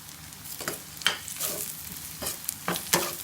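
Onions frying in a pan for masala egg curry, a soft sizzle under a few spatula scrapes that come at irregular moments.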